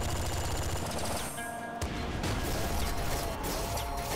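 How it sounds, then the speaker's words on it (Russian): Bazooka shots in the video game Nuclear Throne fire amid a dense, loud, continuous wash of gunfire and explosions, with a couple of sharper blasts standing out. "Из базуки на него тоже два выстрела."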